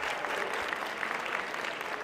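Studio audience applauding a guest, a disability rights activist, on a student science programme at CCH Oriente; a steady, fairly soft wash of many hands clapping throughout with no speech over it.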